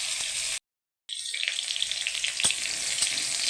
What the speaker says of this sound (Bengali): আমি একটু লাল লাল করে ভেজে নেবো।